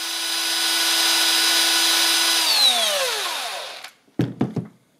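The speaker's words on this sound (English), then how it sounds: "Actually, I'm using an electric drill for that." An electric drill spins the shaft of a 3D-printed Halbach motor, a loud steady whine that winds down with falling pitch as it stops, followed by a few sharp handling clunks.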